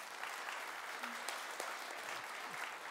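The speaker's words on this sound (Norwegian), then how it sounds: "Men det fortjener en klapp." An audience at a lecture event applauds, a dense steady patter of many hands clapping that holds at an even level throughout.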